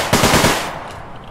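Rapid automatic fire from the PDW-57 Stiletto in the online shooter APB Reloaded, a loud burst of about five shots that quickly decays into a fading tail, with no voices.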